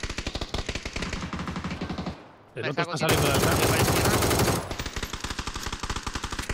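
Automatic rifle bursts crackle loud and close in a PlayerUnknown's Battlegrounds match on the classic Erangel map, rapid shots in dense runs with a sustained heavy volley midway, while players talk over the firing.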